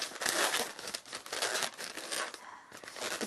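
A rubber balloon being twisted and folded into small bubbles for a balloon-art flower, making a steady close crinkling, squeaking rub that runs on continuously.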